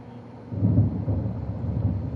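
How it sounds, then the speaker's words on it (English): Thunder rumbles from a thunderstorm in a college football video game, a low steady roll that swells after a brief quieter start and holds for a couple of seconds, with no talk over it. "And there's a thunderstorm."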